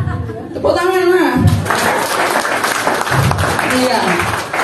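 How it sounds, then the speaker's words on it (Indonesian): Church audience applause and laughter mixed with a voice: he speaks at the start, then clapping and chuckling swell and continue at moderate loudness, with more speech near the end. "Tepuk tangan nah."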